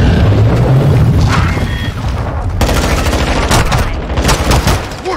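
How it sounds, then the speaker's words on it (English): Cruise missile explosions in the video game Call of Duty: Modern Warfare II, with loud, continuous booming mixed with rapid gunfire bursts that build into dense rumbling blasts. "Enemy cruise missile incoming."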